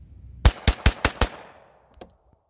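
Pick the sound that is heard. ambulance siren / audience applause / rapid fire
rapid fire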